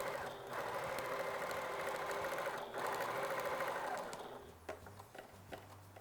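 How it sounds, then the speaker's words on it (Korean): Sewing machine stitching cotton fabric for a nap bedding set, a fast, close, rattling motor buzz in two sustained runs with a short pause between, then stopping into quieter handling sounds. "시접 1cm를 두고 봉제를 해주시면 됩니다"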